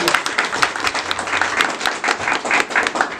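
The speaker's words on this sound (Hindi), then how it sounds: "सब लोग साथ मिल करके हमारे मुजाहिद भाई के लिए ताली बजाएं" An audience at an appreciation program in a welfare society office claps together, a short, dense patter of many hands at moderate loudness with no talking over it.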